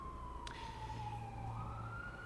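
A fire engine siren passing outside, a steady wailing tone heard from a distance that slowly drops and then rises, over low traffic rumble, with no talking.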